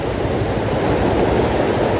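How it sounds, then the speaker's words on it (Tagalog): Surf washes continuously along a seashore, a broad steady roar of breaking waves mixed with wind buffeting the microphone, loud and unbroken with no voices. "Maglakad-lakad muna tayo dito sa tabing dagat."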